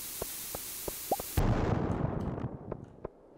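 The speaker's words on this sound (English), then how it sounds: "let's place the bomb in here" A bomb placed in a Stardew Valley mine goes off with a sudden loud blast and a decaying rumble, preceded by a series of short regular ticks and followed by scattered small pops as debris settles.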